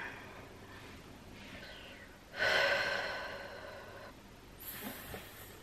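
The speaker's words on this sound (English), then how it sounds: "Hissing for 40 seconds." Long sustained hissing breath during vocal warm-ups, pushed out between the teeth at close range and swelling loudly in the middle before tapering, with softer breaths around it and no talking.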